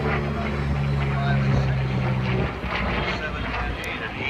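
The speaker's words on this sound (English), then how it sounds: "Here's the P-40M's acrobatics." A P-40M warbird performing aerobatics at a World War Two airshow weekend, its engine a loud, steady droning roar that shifts in pitch as it maneuvers, with wind buffeting and people talking over it.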